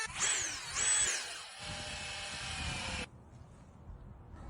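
A power drill drives screws into an upside-down wooden outdoor table, two short whirring bursts followed by a longer steady run that stops abruptly, heard close with no talking.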